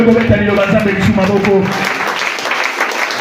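A church congregation at a Bible teaching on the local church breaks into loud applause that fades after a couple of seconds as a voice carries on.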